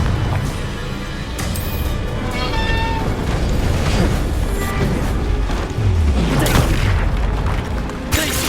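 A Confringo spell explosion booms in the Hogwarts Legacy video game, a heavy blast amid dense, continuous combat sound effects with rumbling low-end impacts and layered game noise throughout.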